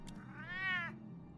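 A cat in the Batman Telltale video game gives a single clear, drawn-out meow close up, alone over a low background hum.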